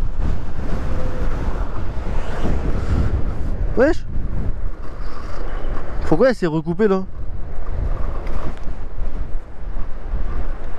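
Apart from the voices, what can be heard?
strong wind on a microphone while riding an electric scooter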